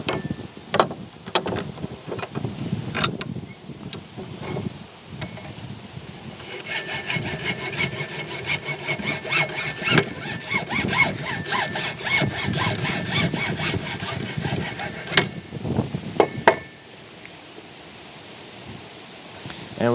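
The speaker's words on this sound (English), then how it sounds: "the next step is to cut off a 3-inch piece of PVC pipe off of our main section here" A hand saw cuts a 3-inch piece off a length of PVC pipe in a fast, steady run of close, rasping strokes, preceded and followed by scattered knocks and handling clatter.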